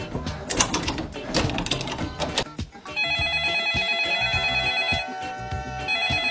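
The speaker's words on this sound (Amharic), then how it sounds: "አንሹ እንዴ ስልኩ እየጠራ አይደለ?" A telephone rings with a steady electronic ringtone of sustained bright tones that starts about halfway through and continues to the end, following a busy, noisy stretch.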